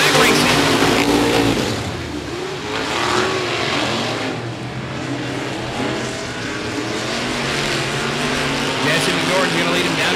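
Race cars roar past on the oval at 105 Speedway as green-flag racing resumes, a dense, sustained engine din that swells and fades slightly. Voices are faintly audible beneath the noise.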